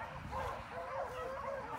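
Beagles bark and yip in a steady run of calls while out hunting in the morning, a pack of six dogs sounding from a moderate distance, with a person talking over them.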